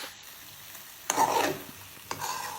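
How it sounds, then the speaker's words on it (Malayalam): Fried cauliflower is stirred into Gobi Manchurian sauce in a pan, giving two short bursts of scraping and sizzling about a second apart over a quiet background, with no talk. "ഇനി നമുക്ക് ഇതെല്ലാം കൂടെ ഒന്ന് മിക്സ് ആക്കാം"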